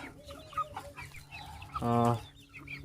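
A chicken clucks nearby, a short burst of harmonic calls rising near the end, with faint background noise and other soft bird sounds throughout.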